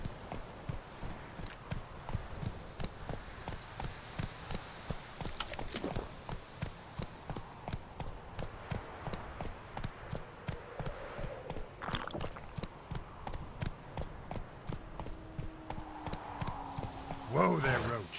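Roach the horse trots in The Witcher 3, hooves clip-clopping in a steady, even rhythm throughout, faint beneath intermittent talking and other game sounds.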